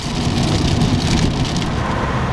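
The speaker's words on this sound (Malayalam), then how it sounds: "വീണ്ടും മഴ ചാറിത്തുടങ്ങിയിരിക്കുന്നു" Steady drizzling rain on US Route 66, a dense broadband hiss with a low rumble underneath, continuous and fairly loud throughout with no voices.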